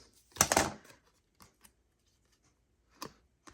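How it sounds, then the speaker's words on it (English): Crisp snipping of scissors through paper, one longer burst of cutting followed by a few isolated short snips in a quiet room. "I'm just going to come back over here and straighten it up with my longer scissors."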